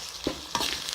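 Ginger and garlic fry in oil with a soft, steady hiss, broken by two quick stirring scrapes in under a second.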